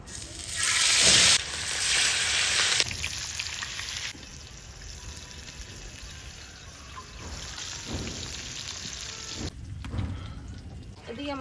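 Rohu fish frying in hot oil in a wok, a loud continuous sizzle that flares at the start and settles into a steady crackle, with a voice talking intermittently over it.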